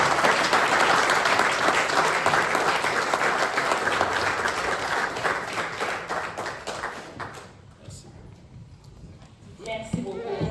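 A church congregation at a dedication and thanksgiving service bursts into dense, sustained applause that fills the room, then thins and fades toward the end, leaving scattered claps.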